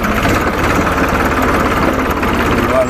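A tractor engine runs close by with a loud, steady low chugging rumble that continues without pause.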